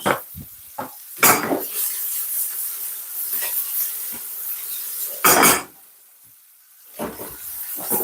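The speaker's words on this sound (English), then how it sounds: "So if you notice, I'm browning off the beef." Minced beef browning in a pot for a stew, with bursts of loud sizzling and hissing as the meat is stirred and turned, between quieter stretches of low frying and clinks of a utensil.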